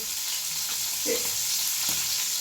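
Cashews and peas fry in hot oil in a pan while cooking bisi bele bath, giving a steady, close sizzling hiss with a few soft stirring bumps throughout.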